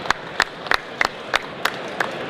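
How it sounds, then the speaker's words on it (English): An audience at a classic muscle car and Corvette unveiling claps, with sharp bursts coming in a loose, regular rhythm over a dull room hum rather than a dense ovation. "a big round of applause for NASCAR for bringing this one out"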